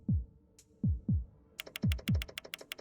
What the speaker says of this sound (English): And we get to just listen to our heartbeat.